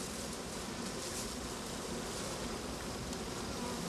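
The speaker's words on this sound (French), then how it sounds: "On appelle ça un essaim d'abeilles." A swarm of honeybees from an overfull hive buzzes steadily and densely, a continuous close hum of many insects with no voices.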